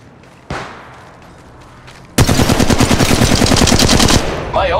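Rapid automatic gunfire in the mobile shooter Apex Legends Mobile bursts in loud and close after a single heavy shot, a dense rattling stream of rounds lasting about two seconds before cutting off.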